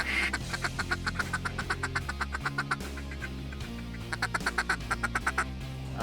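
Ducks on the Colorado Front Range quack in quick, rhythmic bursts, close and loud around a hunting blind, with a continuous stream of calls and a low rumbling background.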